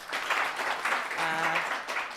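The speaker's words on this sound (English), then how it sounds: "Let's give her a better hand clap." An audience at a disaster management report launch gives a short round of moderate clapping, with a voice briefly heard partway through.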